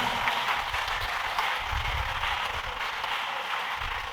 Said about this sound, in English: Another round of applause for her, ladies and gentlemen.